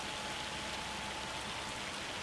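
A hailstorm in a farming video game gives a continuous, even hiss of falling ice and rain drumming on surfaces, steady and fairly loud with no talking.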